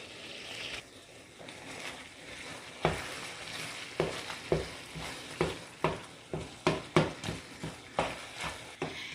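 Leftover frozen taco meat sizzling and frying in a pan, with a steady hiss and a run of sharp clacks as it is stirred and broken up, growing livelier toward the end.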